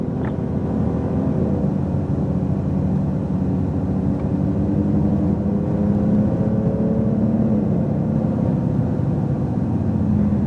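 A Porsche 911 Turbo S on a track warm-up lap gives a steady, loud engine drone from inside the cabin, the pitch holding fairly even with a slight rise partway through and no talk over it.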